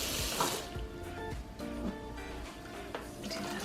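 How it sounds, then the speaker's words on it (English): Tap water running over cooked pinto beans in a colander set in a kitchen sink, a steady close splashing rinse with no talk. "Give them a little rinse."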